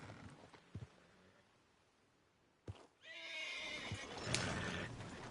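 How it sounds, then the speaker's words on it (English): Horses whinny loudly in Red Dead Redemption 2, a sharp snort followed by a long, close neigh over a quieter outdoor background. "Oh, shit, the horses! Damn horses!"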